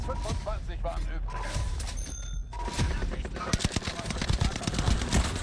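Bursts of gunfire in the shooter game Truy Kích, sparse at first and then a quick rattle of shots toward the end, heard beneath a player's voice talking.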